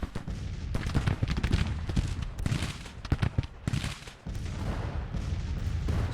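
Massed musket volleys from Civil War regiments in the Grand Tactician strategy game, a dense crackling roar of overlapping shots swelling and easing in waves over continuous rumbling battle noise, with no talking.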